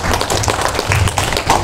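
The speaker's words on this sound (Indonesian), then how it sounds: "kita tepuk tangan lagi sekali." A seminar audience at an Indonesian legal event gives a loud, close round of hand clapping, dense and continuous, with a few murmuring voices mixed in.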